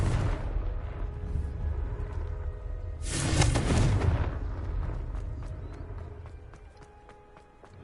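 A Confringo blasting spell goes off in Hogwarts Legacy, a loud explosive burst that swells for about a second over a rumbling game background before fading into ambient hum and scattered ticks.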